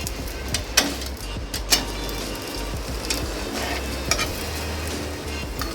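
A semolina chilla fries in oil in a pan and is flipped over partway through. Steady soft sizzling comes with a few sharp scraping clatters from the flip, close and fairly loud, with no speech.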